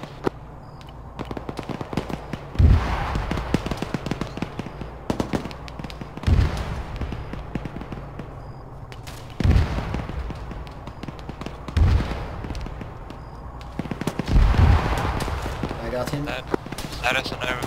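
Heavy, booming blasts of artillery fire land roughly every few seconds in a military video game, each a deep thump under steady clatter and continuous shouted voices.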